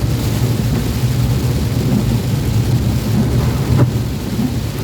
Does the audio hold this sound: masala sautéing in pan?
no